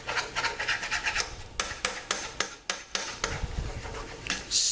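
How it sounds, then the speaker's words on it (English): A utensil rasps rhythmically against a pan while flour is stirred into white gravy for chicken fried steak, a quick series of close, scraping strokes with no pauses for talk. "you're going to basically stir this in, stir it in really well"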